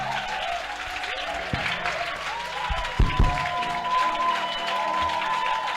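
A church congregation applauds and cheers during worship, with steady crowd clapping and voices alongside a sustained tone and a few sharp thumps midway.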